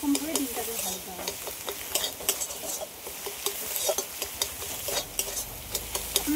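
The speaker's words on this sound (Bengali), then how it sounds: "ডিমগুলোকে একটু ভালো করে ভেজে নেব" Eggs fry in a pan during home cooking. A steady sizzle runs under brisk stirring and scraping, with repeated clinks of a spatula against the pan and no talking.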